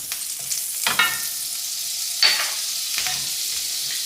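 Butter melts and sizzles in a pan with the drippings left from cooking chicken marsala, a soft continuous fizz broken by a few sharp stirring scrapes and clacks, heard close with no voices.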